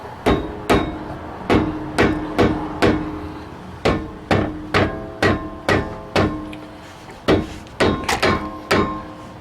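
A hammer taps again and again on the wheel hub and rotor of a 2008 Saturn Vue during brake work, loud close metallic knocks in a steady, slightly uneven rhythm with no talking.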